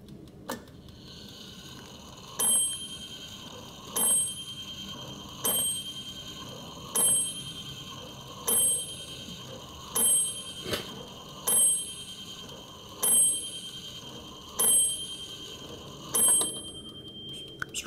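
A vintage French Odo automaton clock, a figure with a long hammer at a bell, strikes ten evenly spaced metallic rings over a steady mechanical ticking, close and clear.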